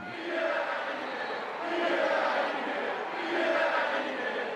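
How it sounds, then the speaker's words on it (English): A crowd at an ancient Greek Olympic ceremony, in 448 BC, shouting acclaim for the victors: a dense mass of voices rising and falling in broad waves, fairly loud and steady throughout. "Brave, glorious, victor, shouts the excited crowd."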